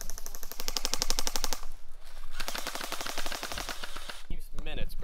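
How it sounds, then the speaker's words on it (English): Rapid automatic bursts from airsoft guns during a team skirmish: fast, close rattling volleys of clicks, one long string then a second dense run, with some overlapping shots and brief breaks. "Now I'm gonna shoot you."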